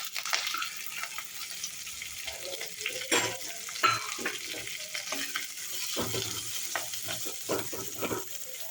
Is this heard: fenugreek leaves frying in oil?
yes